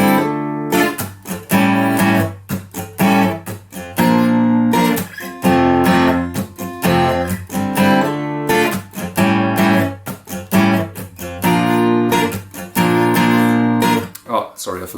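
Acoustic guitar strummed slowly in a down-up pattern with muted strokes for a song, clear rhythmic chord strokes with short gaps, close and alone.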